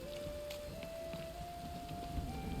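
Steady, soft rainfall patters in The Witcher 3's night-time town, a continuous hiss of drops with a sustained faint musical drone underneath and no voices.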